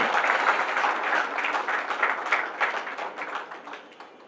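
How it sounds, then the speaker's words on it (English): Audience applause at an architects forum in Lagos, a crowd clapping steadily and fairly close, then gradually tapering off over a few seconds. "I think Architect Ajayi, she deserves a round of applause as well."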